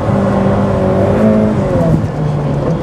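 Ferrari F8 Tributo engine revving hard while drifting, a loud steady roar with shifting pitch as gears change mid-slide, heard from inside the car with tyre noise underneath.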